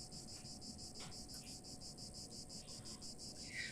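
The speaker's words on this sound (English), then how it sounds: "Cicadas?" Cicadas trill in a steady, pulsing chorus outdoors near a boarding school in the video game The Last Door, faint and continuous with no voices.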